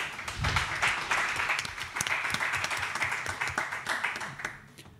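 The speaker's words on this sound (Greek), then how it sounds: "Ένα θερμό χειροκρότημα" Warm audience applause at a literary society book presentation in Thessaloniki: dense, sustained clapping from a seated crowd, holding steady for several seconds before gradually thinning and fading out.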